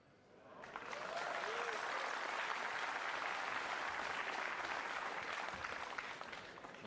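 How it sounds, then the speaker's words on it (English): A crowd at a 9-ball pool match with Efren Reyes bursts into applause for a safety shot, the clapping rising quickly and then holding as a loud, sustained wash, with faint voices in the room. "And the crowd applauds a routine safety as if he's just scored the winning goal in the World Cup final."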